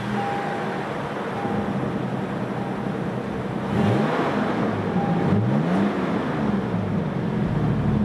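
A 2022 Toyota 4Runner TRD Pro engine starting by push button: a steady background hum, then a brief cranking catch and a rise into a running engine that revs up and settles into a steady idle, heard close.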